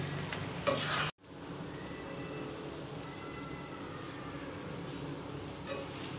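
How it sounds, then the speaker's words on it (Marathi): Carrot malai burfi mixture being stirred in a pan, a brief loud scrape and clatter at the start, then a steady soft sizzle with faint stirring through the rest, close and quiet. "आता परत असं हे छान असं मिश्रण आहे ते मिक्स करून घ्यायचं आहे"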